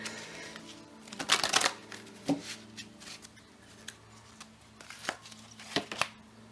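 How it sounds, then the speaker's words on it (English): Tarot cards riffle and slap together in a shuffle, with soft papery flicks and a few louder bursts, close up and quiet with no voices. "a little bit of a shuffle here"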